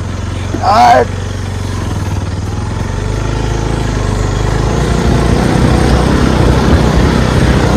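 A scooter engine labours on a rough, slippery off-road track, a loud, steady buzzing drone throughout, with a brief shout of voice near the start.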